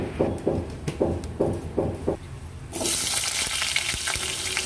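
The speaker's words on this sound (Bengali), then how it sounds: "পরিমাণ মতো সর্ষের তেল দিয়ে দিলাম পাঁচ ফোড়ন আর শুকনো লঙ্কা ফোড়ন দিয়ে দিলাম" Panch phoron and dried red chillies crackle in hot mustard oil: a run of sharp, rhythmic pops and spits, then a sudden loud, continuous sizzle takes over.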